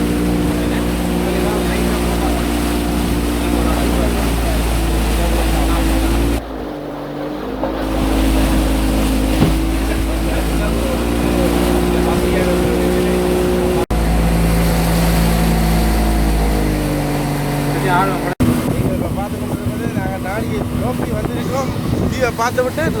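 Speedboat engine droning steadily at sea near Nadi, Fiji, a loud constant motor hum mixed with water and wind rush, under someone talking.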